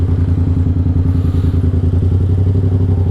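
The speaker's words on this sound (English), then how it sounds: "This time you can actually listen to the sounds of the bike." A 2015 Yamaha MT-07 motorcycle with a straight pipe exhaust, riding along at steady throttle; a loud, close, throbbing twin-cylinder rumble with a rapid pulsing beat and crackle, continuous throughout.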